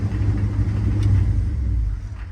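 A 1972 Ford Bronco engine rumbles steadily at idle, loud and near, then is switched off with the key, its low drone dropping away in the final moments.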